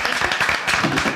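Studio audience applause on a French talk show, a dense, steady wash of many hands clapping at once, fairly loud and continuous with no pauses.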